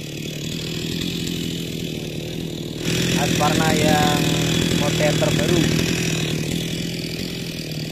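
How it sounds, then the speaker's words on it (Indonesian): A Honda 190cc push lawn mower runs steadily on grass, its engine drone rising to a louder, harsher cutting roar partway through, with someone talking over it. "Ini mesin dorongnya pakai mesin merek Honda 190cc"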